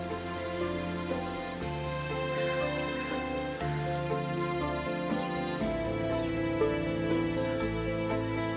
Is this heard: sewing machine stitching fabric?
no